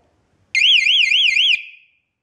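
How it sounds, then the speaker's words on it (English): A homemade continuity tester's alarm sounds when its two wire ends touch, giving a loud, close warbling electronic tone that lasts about a second and then fades out. "when these two ends meet, the alarm should go off."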